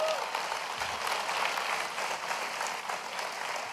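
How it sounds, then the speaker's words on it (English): Sustained applause from a keynote audience at WWDC 2017, a dense steady wash of many hands clapping at even loudness throughout. "Let's give them a big round of applause."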